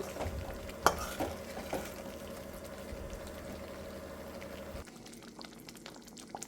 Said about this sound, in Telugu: ఒక టూ మినిట్స్ ఇలానే ఈ మసాలాలో ఎగ్స్ మగ్గనిద్దాం